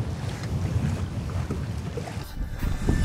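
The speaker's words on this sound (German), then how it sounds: "Boah, Alter, der Wind ist schon hart." Strong wind buffets a kayak on open water off Norway, a loud steady roar of gusts rushing over the microphone with faint water sloshing.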